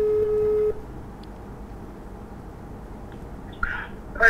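A single steady phone ringing tone sounds through a speakerphone for under a second, then falls into near silence before faint rustles and a brief bright sound at the end.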